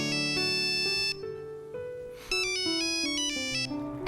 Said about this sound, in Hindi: यार इसके को कितना बार फोन किया, उठा ही नहीं रहा है।